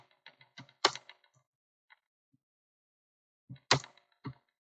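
C++ code is typed on a computer keyboard in two short clusters of crisp, close keystrokes separated by a silent pause.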